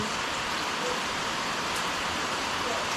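Heavy rain pours down in the Konkan countryside, a dense, even hiss of falling water that holds steady and loud with no break.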